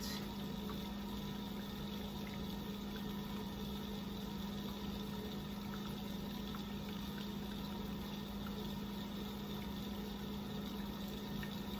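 A laboratory vacuum pump runs during filtration in a benzoin synthesis, a faint, steady, even hum with no breaks.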